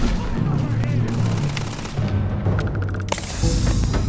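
Rapid automatic gunfire in the space video game Starfield during a Crimson Fleet mission, dense repeated shots with a voice speaking over the combat and a sharper burst near the end.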